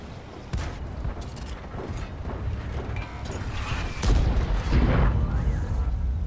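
Heavy booming shots and mechanical clatter of a tank battle in World of Tanks, with an SU-2-122 self-propelled gun firing its cannon, loud and dense, with a big blast near the four-second mark amid continuous rumble.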